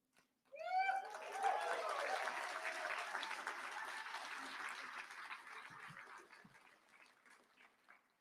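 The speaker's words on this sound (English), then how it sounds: "Another round of applause." An audience at a tribal and EPA awards banquet breaks into sustained clapping after a short voice, rising quickly, then slowly thinning out over several seconds, heard from within the room.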